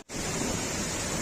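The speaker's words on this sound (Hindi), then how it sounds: "आवाज पानी की आपको आती होगी, मेरी बोलने की आवाज नहीं आती होगी।" A waterfall near Saifullah Lake in Kalam gives a loud, dense, continuous rush of crashing water that starts abruptly after a brief silence and holds steady, close and unbroken.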